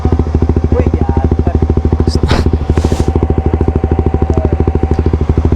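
Motorcycle engine on a rally ride in the Iligan Hyperally Endurance Challenge from Sumilao, Bukidnon, a fast even chugging throb, loud and close, with brief rustles over it.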